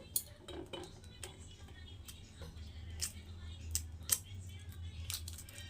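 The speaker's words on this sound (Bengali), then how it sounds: "ডিমগুলো আমার সেদ্ধ হয়ে গেছে তো ডিমগুলোকে প্রথম আমি ছুলে নেবো" Shells are peeled off boiled eggs by hand, giving scattered sharp crackles and small clicks at an uneven pace, close by and fairly quiet over a low background hum.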